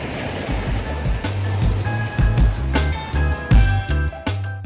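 Sea waves wash ashore steadily at Antibes, France, with a broad rushing hiss, close by, while faint tonal chimes or music ring over the surf.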